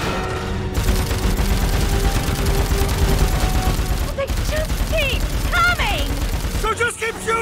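Rapid gunfire in Dead Rising 4 crackles in dense, continuous bursts of loud shots, with a brief break before more volleys and scattered game effects mixed in.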